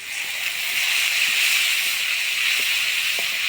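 Water poured into mustard paste frying in hot oil gives a steady, broad sizzling hiss that holds evenly for a few seconds, close and moderately loud.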